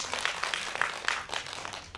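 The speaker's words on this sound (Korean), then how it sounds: "박수 한번 쳐주세요" Audience applause at a Korean film screening and director's talk, a small crowd clapping for a seed donor with soft, scattered claps at moderate distance over a steady room murmur.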